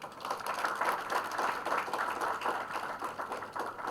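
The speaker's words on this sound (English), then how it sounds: "Can we give a big round of applause?" A college conference audience gives a sustained round of applause, dense overlapping claps rolling steadily and fairly loud throughout.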